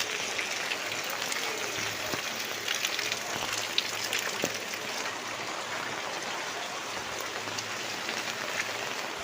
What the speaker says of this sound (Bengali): মানে খুব মুসলধারে বৃষ্টি হচ্ছে